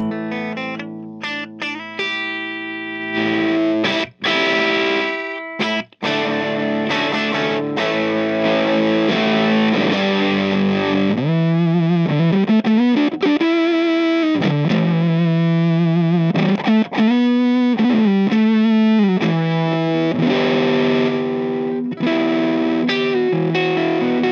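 An electric guitar through an EarthQuaker Devices fuzz pedal with a gritty overdriven tone plays sustained chords and bending single notes, loud and continuous with no talking.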